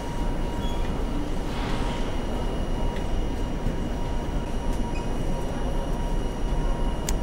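A cheap train pulls into a station platform, a steady loud rumble of rolling wheels and carriages with faint high squeal traces, continuous throughout with no talk.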